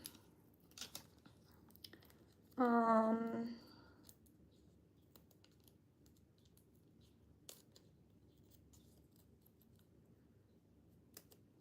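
Scissors snipping out a small paper heart, a single quick burst of close crisp cuts lasting about a second amid otherwise quiet room sound.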